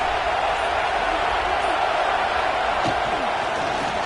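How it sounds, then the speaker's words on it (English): A loud, steady roar from a packed stadium crowd at a Penn State football game, with a dense wash of cheering and whooping that never lets up and a brief sharper shout or thump near the end. "this crowd is fired up. Listen to this noise here."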